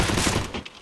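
A quick burst of rapid automatic gunfire in the CS:GO video game, loud and close, firing for about half a second before cutting off into a brief fading tail.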